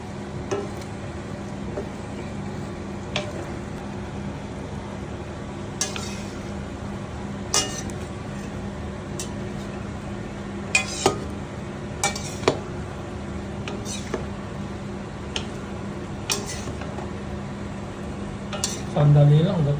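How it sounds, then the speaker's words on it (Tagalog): Salmon with bean sprouts and bell pepper being stirred in a pan, a steady background hum broken by scattered clinks and scrapes of a utensil against the metal, no talking. "Tapos, hahaluin natin."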